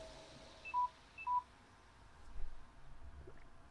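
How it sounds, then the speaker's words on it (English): A phone's low-battery alert, two short electronic beeps in quick succession, faint, followed by low rustling background noise. "Phone battery low."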